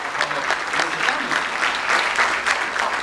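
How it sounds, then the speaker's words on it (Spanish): An audience at a seminar on the history of taxes breaks into sustained applause, dense overlapping hand claps holding at an even level throughout, filling the room without any talk on top. "nosotros nos merecemos, como la señora, por ejemplo, un fuerte aplauso"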